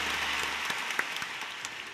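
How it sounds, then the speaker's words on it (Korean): Congregation applause at a Sunday church worship service, a steady dense wash of many hands clapping, fairly faint and distant, with no talk. "우리 하나님께 감사와 영광의 박수 올려드리겠습니다."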